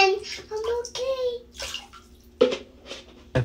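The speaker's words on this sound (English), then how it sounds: "Push the button and the water will sprinkle." Water sprinkles and splashes at an outdoor spray park, running under children's and adults' voices, with a couple of sharp splashy bursts near the end.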